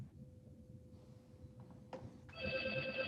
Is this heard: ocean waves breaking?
no